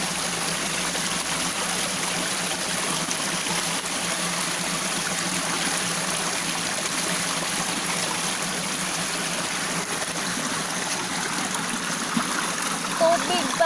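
Stream water in the rural Philippine countryside flows and trickles continuously in a steady broadband rush, close and fairly loud throughout, with a small splash near the end.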